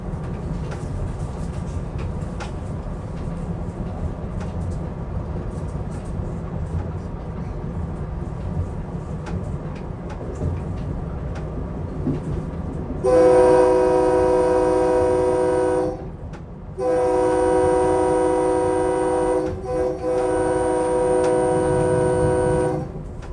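A SEPTA commuter train runs steadily with a constant rumble, then its horn blasts loud and close in two long sustained sounds with a short gap between, as the train approaches railroad crossings.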